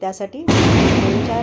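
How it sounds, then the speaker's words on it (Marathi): A person speaks briefly indoors, then a loud firecracker burst outside cuts in, leaving a sustained crackling roar. "बाहेर फटाक्या वाजतात त्याचा आवाज येतो"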